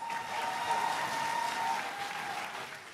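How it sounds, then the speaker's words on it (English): Steady applause from a crowd at a university graduation ceremony, a dense wash of clapping that holds for a few seconds, then begins to ease off. "May we have a round of applause for all graduate students."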